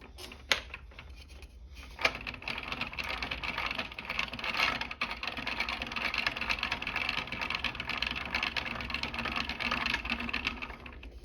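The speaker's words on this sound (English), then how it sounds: "it will start the toothbrush with that back and forth motion going around the jaw" A handmade wooden automaton drives a toothbrush back and forth around a jaw, giving a continuous close clattering and whirring of gears and ratchets after a couple of initial knocks.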